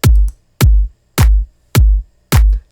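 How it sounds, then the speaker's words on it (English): A pop dance groove of steady four-on-the-floor kick drums with claps on beats 2 and 4, five heavy, even thumps in a row, loud and dry with no other instruments. "I then added a clap on 2 and 4 to create the basic groove that we have for the song"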